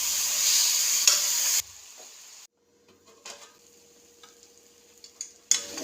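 Pepper beef roast in a pan, loud close sizzling and stirring that drops away abruptly, followed by quiet clinks and small knocks of the pan and lid, then a burst of sizzle returns at the end.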